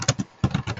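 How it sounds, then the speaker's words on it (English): Typing on a computer keyboard during a coding session, heard as a quick run of soft, close key clicks. About six keystrokes fall in under a second, with no voices. "I am typing"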